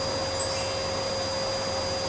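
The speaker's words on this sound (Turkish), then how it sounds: "Süpürgeyle." Steady, continuous whine of a vacuum cleaner in a children's video game, running at an even level, a constant high-pitched drone with no voices.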